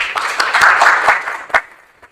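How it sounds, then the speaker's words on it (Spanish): Audience applause welcoming a speaker at a medical talk, a short burst of clapping from a modest crowd that swells and then quickly dies away. "Recibámoslo con un fuerte aplauso,"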